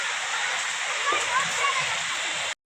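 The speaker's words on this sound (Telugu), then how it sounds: "వాటర్ ఫాల్ కింద ఉన్నాం మేమైతే" Steady, dense rushing water roars throughout, like a waterfall close by at Udayagiri hill, cutting off abruptly near the end.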